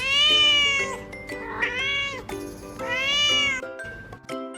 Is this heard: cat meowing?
yes